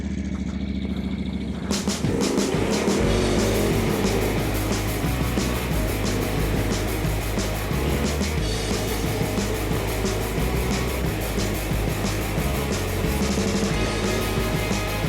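Yamaha Tenere 700 motorcycle, ridden without luggage, starts up after a quiet moment and then runs continuously, its engine drone and wind noise loud and close, steady throughout with no talking.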